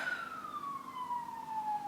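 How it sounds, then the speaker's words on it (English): A siren wails faintly in the distance, a single falling tone gliding steadily downward over soft background hum. "I live in a place where lots of sirens go off all the time."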